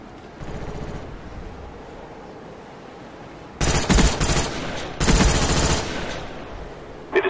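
Bursts of automatic gunfire in Call of Duty: Black Ops, with faint shooting early on and two loud sustained volleys later, each lasting about a second or more.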